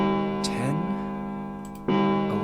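Ticking clock in the main stairway of the game Zero Escape 999, with a deep bell-like chime struck twice, the strikes ringing out with sustained harmonic tones against a steady background.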